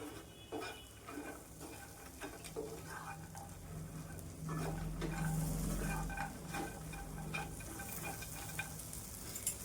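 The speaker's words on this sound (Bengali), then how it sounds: "এভাবে আরো 1 মিনিট ভেজে নিব" Makhana (fox nuts) fry over low heat in a pan while being stirred, a steady close sizzle with repeated light scrapes and rattles of the utensil against the pan, no talking.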